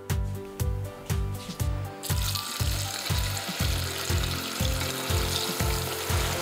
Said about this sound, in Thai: น้ำมันเริ่มร้อนแล้วนะครับเริ่มทอดปลากันได้เลย